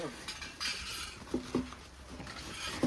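Household pots, pans and utensils clatter at an outdoor jungle party, with scattered metallic clinks and a few sharper knocks spread unevenly over a quiet background.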